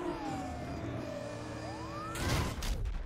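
In the racing game Need for Speed The Run, a police car siren wails with rising and falling tones over a droning engine. A louder rush of noise, like a car passing or crashing, bursts in near the end.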